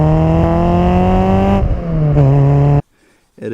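Honda Prelude exhaust under revving: a loud, steady engine drone that rises and shifts in pitch, cuts out abruptly, then returns briefly.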